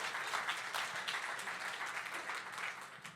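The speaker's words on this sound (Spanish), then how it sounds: "le damos la bienvenida a mi hermana con un aplauso" Applause from a church congregation welcoming a woman to share a testimony, a steady wash of clapping heard at moderate distance without speech.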